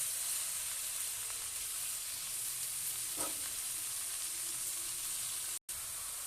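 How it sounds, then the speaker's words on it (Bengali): Pumpkin leaves sizzle and fry steadily in a pan with onion and chilli, a continuous close hiss with faint stirring and one brief cut near the end. "পেঁয়াজ আর লঙ্কাটা ভাজা হয়ে গেছে, এবার দিয়ে দেবো কুমড়ো পাতা।"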